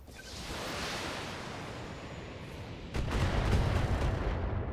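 Battletech mech weapons firing a precision strike, a low, rumbling barrage of distant booms that swells and then turns harder and denser midway. The sound is moderately quiet and has no voices.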